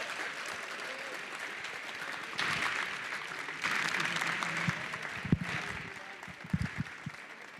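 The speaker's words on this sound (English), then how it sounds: "So for a mess up that didn't matter, again, crowd, give it up for Tord Reklev." Audience applause at a Pokémon Trading Card Game regional championship in Gdańsk, a broad steady clapping that swells partway through and carries on with a few louder individual claps near the end.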